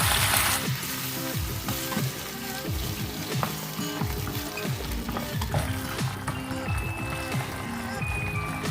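Sliced sausage stir-fried in a pan with sugar, a little water and oyster sauce, sizzling steadily with repeated scraping stir strokes throughout, close and fairly loud, with no talking.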